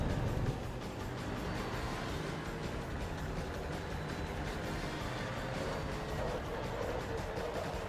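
Race car engine on track in Forza Motorsport 2, a low continuous engine drone with a rough steady hum, fairly quiet and even throughout with no speech.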